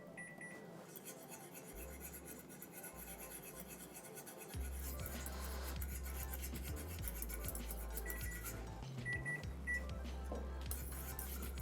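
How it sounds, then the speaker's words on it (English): Boiling strawberry jam with pectin is stirred in a pot, with repeated close scraping and rubbing strokes of the spoon against the pot. A few short electronic beeps and a low background hum sit underneath. "You just don't want this to burn, that's why you have to keep stirring it"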